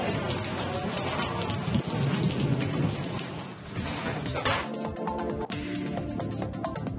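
Heavy rain pours down steadily in Chitradurga district during a hailstorm, with dense drumming on surfaces and low rolls of thunder rumbling through the continuous downpour.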